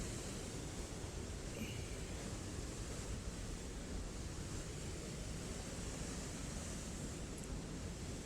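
A steady, even rush of falling water from a small woodland waterfall fills the whole stretch, continuous and broadband with no pauses, heard from nearby at moderate level.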